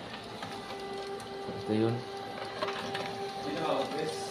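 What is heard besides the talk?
Canon printer printing a sample page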